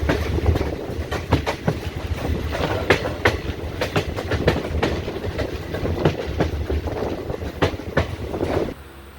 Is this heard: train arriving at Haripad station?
yes